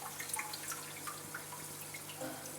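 Water trickling and dripping as an aquarium filter sock drains, a soft continuous splashy patter close by with scattered droplet plinks, no talk.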